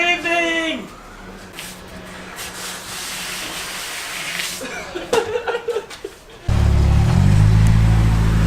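A Nissan S14 Silvia with no working rear brakes rolls into motion, its engine a steady low drone that swells loudly near the end, with laughter and voices mixed in.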